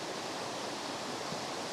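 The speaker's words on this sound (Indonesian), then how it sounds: "Sekitarnya banyak air, ada sungai, ada aliran sungai kecil dari atas." Water from a river and a small stream flows beside a forest campsite, a dense, steady rushing wash with no breaks, close and continuous, no voices.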